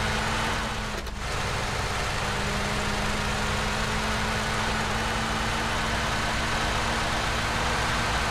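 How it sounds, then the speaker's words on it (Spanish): A buggy engine in the video game PUBG drones steadily throughout, a low constant idling hum with a brief louder swell near the start, no talk over it. "¿Te escuchas ese buggy?"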